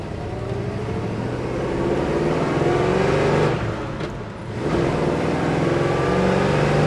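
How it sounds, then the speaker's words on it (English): A 1969 Chevrolet Chevelle SS with a 396 V8 and manual shift runs steadily with a close, continuous engine drone that briefly swells and dips, then settles again. "Notice we're idling nicely."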